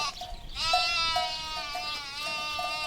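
A sheep bleats in one long, wavering, tremulous cry that holds steady for a couple of seconds, close and clear above a faint background.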